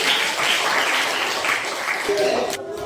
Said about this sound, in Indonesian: Beri tepuk tangan untuk kelompok auditori.